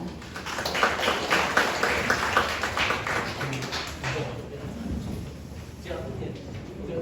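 An audience at a community meeting on the Choji station-area urban development project in Ansan claps in a steady, dense burst that fades after a few seconds, with a quieter room murmur carrying on to the end.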